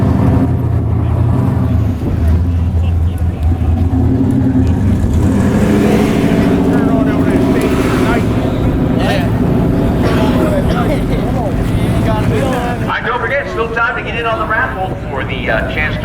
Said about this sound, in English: We're all set up in the ISF, and it's time to go down the track.